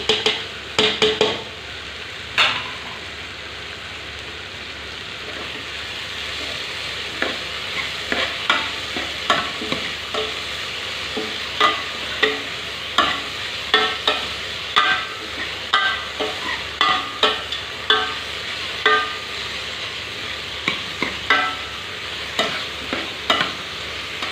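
Ingredients for Punjabi besan kadhi fry in a pan while being stirred, a continuous soft sizzle punctuated by frequent spoon scrapes and clinks against the metal in an uneven rhythm.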